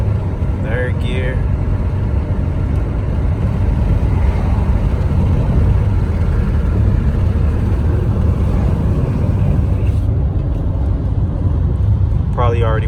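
A $450 auction car's engine pulls steadily through first, second and third gears while driving, a loud continuous low rumble with road noise, a few brief higher whines breaking through.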